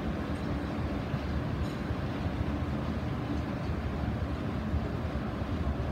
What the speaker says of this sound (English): Quite a bumpy ride, surprisingly. Wobbly escalator.